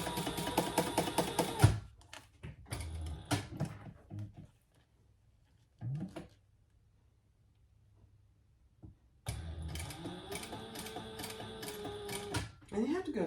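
A sewing machine sews piping onto a fabric bag in short, slow runs of needle clatter, with long quiet gaps and handling sounds between bursts, the stitching loudest at the start and end.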